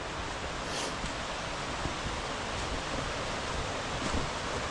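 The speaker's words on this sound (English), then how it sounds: "it sounds like the water level may be up due to the recent rain" Lower falls on the Middle Prong Trail, with water running high after recent rain: a steady, loud broadband rush that holds constant throughout, with no voices.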